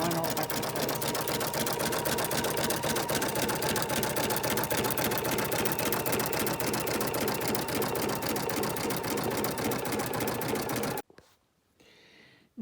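An embroidery machine sews zigzag stitches on a placemat in the hoop, a steady loud rapid needle chatter running for about eleven seconds before stopping abruptly.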